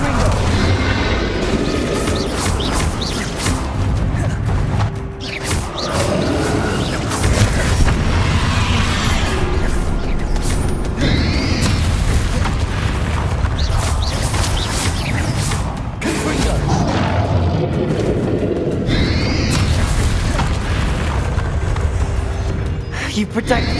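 Confringo and other explosive spells blast during a Hogwarts Legacy duel with Ranrock: a loud, dense stream of booming impacts and crackling magic effects, with mechanical clatter and brief voices mixed into the continuous battle noise.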